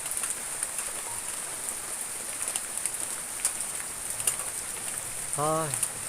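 Heavy rain falls steadily on a Thai treehouse building site, a dense, continuous hiss of drops pattering on surfaces, with a brief faint tonal call near the end.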